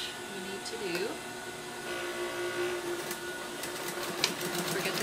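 Sewing machine edge stitching a Hong Kong seam, a steady whirring motor hum with a fast rhythmic needle clatter throughout, close and moderately loud, under a person talking.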